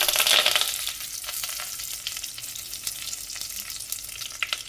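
Dried red chilies hit hot oil for a tamarind puli kulambu tempering, just after mustard and fenugreek seeds, giving a loud, close sizzle that flares at first and then settles into a steady crackling hiss with light stirring.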